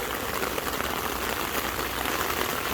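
Rainwater from a roof pours steadily into a rain barrel at a home water-management earthworks site, a loud, continuous close-up rushing and splashing with no pauses.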